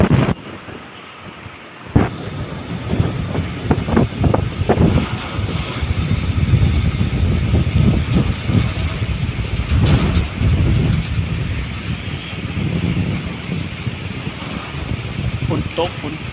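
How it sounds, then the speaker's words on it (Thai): Rain pouring down in Vientiane, a dense steady hiss with gusty wind across the microphone, while a person talks over it throughout. "ฝนตก"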